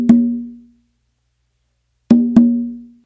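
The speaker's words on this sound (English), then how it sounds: "what he will do is he will replace the finger tap with an open," Conga yambu pattern played on a drum with an open tone in place of the finger tap. One ringing open stroke is followed after a pause by two quick open strokes, each close, resonant and decaying, with no voices.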